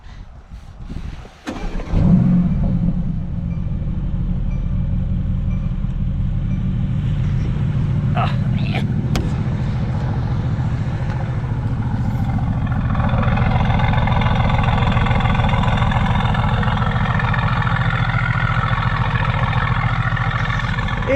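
A sports car engine fires up with a sharp burst, then settles into a deep, loud idle that grows throatier and rougher with light revving, with a few crackling pops from the exhaust.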